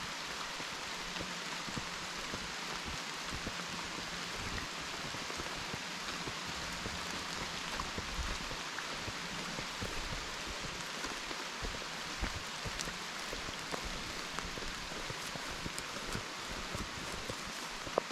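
Steady rain falling on leaves and surfaces in the woods near a cabin in the Poconos, an even, continuous hiss of drops with no talking.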